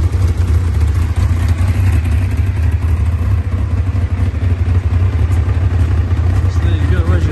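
The engine of a 2003 Tiger Racing Avon ZX9 running after a push-button start: a steady, loud, low idling rumble with mechanical clatter, close by and continuous throughout.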